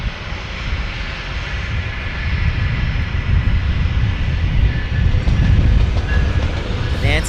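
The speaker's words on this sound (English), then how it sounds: "Embraer Phenom here." An Embraer Phenom business jet passes at a San Diego airport, a steady broadband engine roar that swells slightly louder toward the end, with no voices over it.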